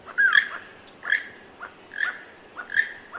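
A keel-billed toucan, also called the rainbow-billed toucan, gives a series of four short, croaking calls spaced about a second apart, clear and fairly close with no voices.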